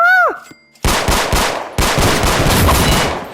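Automatic gunfire in the Roblox video game: after a brief electronic chime, loud close bursts of rapid shots ring out, a short burst followed by a longer sustained volley.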